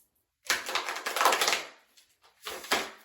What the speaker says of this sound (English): these are newer cards, so they're not like, they need to be shuffled better